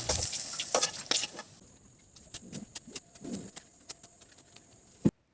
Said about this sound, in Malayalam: ബാറ്ററിൽ ഡിപ്പ് ചെയ്ത് ഡീപ്പായിട്ട് ഫ്രൈ ചെയ്തെടുക്കാം.